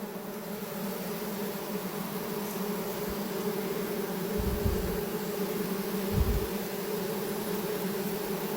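A dense honeybee swarm being captured on Vancouver Island hums steadily throughout, a close, continuous buzz with a few louder low bumps as bees brush the microphone.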